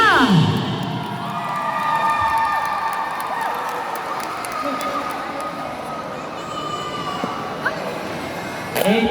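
Crowd at a pencak silat exhibition cheering and shouting for a martial arts school, a sustained loud wash of voices with whistles and shrill cries, continuing for several seconds.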